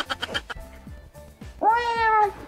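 A cat grooming itself with its tongue, with soft rhythmic licking and gagging sounds followed by one long, clear meow near the end.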